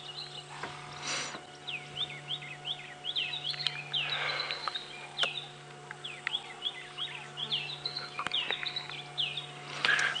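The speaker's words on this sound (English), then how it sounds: "some wonderful bird calls around" Repeated chirping bird calls, short and rapid, sound from a moderate distance over a steady low hum, with occasional rustling bursts, at sunrise during a safari drive.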